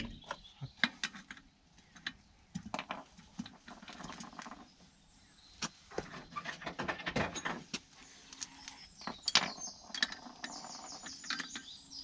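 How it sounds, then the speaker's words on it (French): Socket wrench tightening a suspension fitting on a VW Passat G60 syncro, heard as bursts of metallic ratchet clicks and clanks at close range, broken by short pauses, with no talking. "je vais retrouver ma douille et on va serrer ça"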